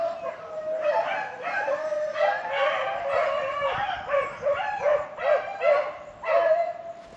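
A pack of rabbit-hunting beagles bays while trailing a rabbit, a steady chorus of overlapping howls and yelps from several dogs at moderate distance, with no talking.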